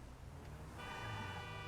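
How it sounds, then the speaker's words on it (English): Car horn honking in the GTA video game during a FivePD roleplay drive, a sustained tone rising from the mix partway through and holding to the end over a steady in-game engine and road rumble. "Jesus, don't honk at me."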